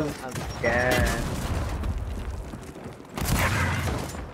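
A grenade blast and gunfire from the video game Gears of War 4, heavy broadband booms with a shouting voice over the first burst and another loud impact near the end.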